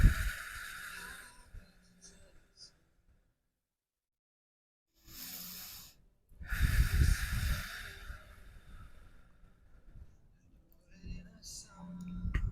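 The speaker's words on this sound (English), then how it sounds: "A few more nice deep inhales, exhales here." A person breathes slowly and deeply during a yoga session, with long airy inhales and exhales close to the microphone, broken by a few seconds of near silence.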